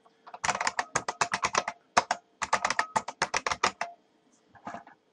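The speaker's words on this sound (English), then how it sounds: "I'm going to type a reasonably secure password and then retype it as well." Password being typed on a computer keyboard: two quick bursts of close, crisp keystrokes separated by a short pause, then a few final taps.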